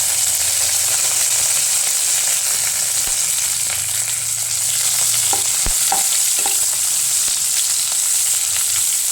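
Dried red chilies, curry leaves and coriander leaves sizzle steadily in hot oil while tempering sambar, a continuous loud frying hiss with a few clinks of a stirring spoon partway through.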